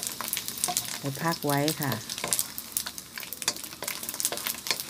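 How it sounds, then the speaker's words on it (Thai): Chinese sausage frying in a pan sizzles steadily nearby, with scrapes and stirring noises. Someone speaks briefly partway through, and the hiss and crackle carry on before and after her. "ทอดให้เหลืองสุกดีเลยค่ะ"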